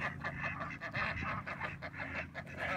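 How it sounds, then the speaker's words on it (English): Ducks on a lake paddle up close to a bass boat, a 2017 Ranger RT 188, giving a busy, continuous stream of nasal quacks and honking calls near the listener. "We got some ducks coming up here"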